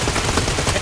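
Rapid gunfire from an online shooter video game, a dense unbroken burst of loud close shots packed into under a second.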